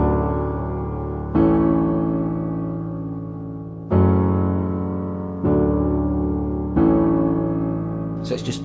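Piano chords from the second part of a song's chorus, five struck roughly every one and a half seconds and each allowed to ring and decay, played alone and close.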